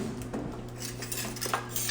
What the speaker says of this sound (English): I'm either gonna grab scissors or I'm gonna grab a knife.